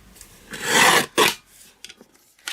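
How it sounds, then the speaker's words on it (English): Paper being trimmed down for a handmade Halloween treat-bag card, giving two close, loud rasping strokes followed by a few faint small rustles, with no talking. "Now I'm going to just trim that down."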